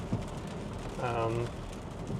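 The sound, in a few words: steady rain during Tropical Storm Debby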